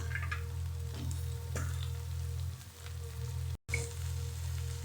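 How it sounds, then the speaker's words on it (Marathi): Fresh spinach sizzling in a hot pan, a strong steady crackle and hiss close up with scattered small pops, briefly cut out once near the end. "पालकची भाजी टाकते मी याच्यामध्ये"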